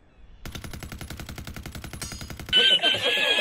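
A gun firing in Rainbow Six Siege: a fast, evenly spaced automatic burst of about twenty close, punchy shots that stops abruptly, followed by a brighter clattering, ringing sound.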